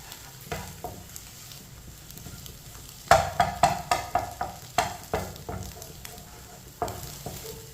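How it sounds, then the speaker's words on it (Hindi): A spoon stirs eggs and rice cooking in a pan, giving a quick run of rhythmic scraping knocks over a soft background sizzle, with a few scattered strokes before and after. "मिक्स करके इसे दोबारा 1 मिनट के लिए पका लेंगे ऐसे चम्मच चलाते हुए।"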